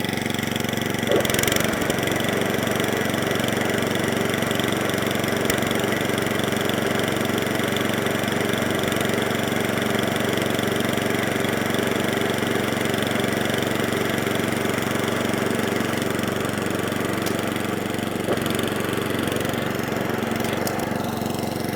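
An Atco Balmoral cylinder lawnmower engine runs steadily off choke, a loud, continuous mid-pitched drone that holds even throughout.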